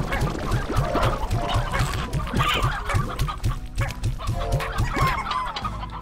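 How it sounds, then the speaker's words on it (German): Ordinary chickens in the game Slime Rancher cluck in a busy, overlapping flock, with rapid repeated clucks and squawks close by, continuing steadily without pause. "das sind jetzt ganz normale Hühner"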